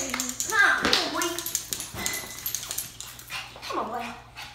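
A dog whimpers and makes short excited noises close by while people talk over it during a road trip, with light tapping sounds in the background.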